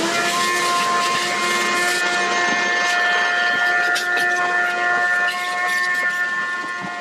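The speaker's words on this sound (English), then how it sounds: "So, before I take any of this out, I'm gonna get the vacuum." A vacuum cleaner runs steadily while clearing debris from the engine bay of a 1964 VW Beetle, a loud sustained motor whine with stable tonal hum that dips slightly near the end, with no talk.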